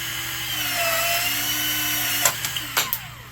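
A Ryobi cordless PVC/PEX cutter whines steadily up close as it cuts through 2-inch PVC pipe, its motor pitch sagging under load before a few sharp clicks and snaps near the end.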